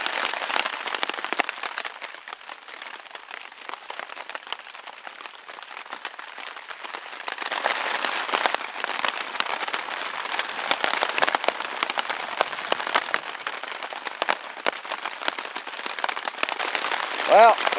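Heavy rain pours steadily onto a tarp over a hammock camp during a storm, a dense, close hiss that swells louder midway and stays continuous throughout.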